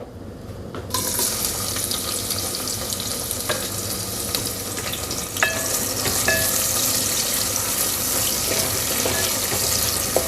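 Chopped onions hit hot oil in a pot over high heat, a loud continuous hiss and sizzle with occasional stirring clinks, close up and without talk.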